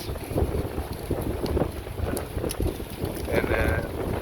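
Wind buffets the microphone with steady low rumbling and roaring gusts throughout, with faint outdoor background noise.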